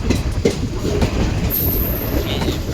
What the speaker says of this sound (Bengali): আর ট্রেন এখন স্পিড ধরে নিয়েছে